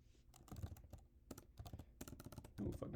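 Keystrokes on a computer keyboard, quick irregular clusters of clicks and taps close to the microphone, quiet overall with short gaps between bursts and no speech.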